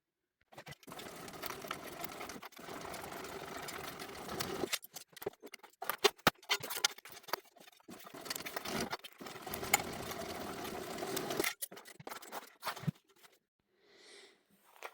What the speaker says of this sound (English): we're going to head to the sewing machine and we're just going to stitch just along that 1/2 inch seam allowance at the top on both sides